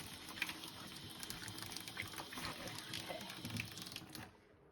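Water runs steadily into a sink filling for washing a Cricut cutting mat, giving a constant close splashing hiss that fades out at the end.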